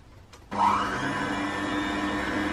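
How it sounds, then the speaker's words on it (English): Electric mixer whirring steadily after starting abruptly, beating egg into a gluten-free, lactose-free mince pie cupcake batter until smooth; loud and close with no talking. "now I'm going to mix this lot together until I have a nice smooth batter"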